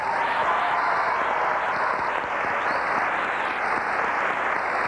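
Audience giving a strong round of applause for the opening guest at a ballet performance: thick, continuous clapping from a large crowd, steady and loud from start to finish.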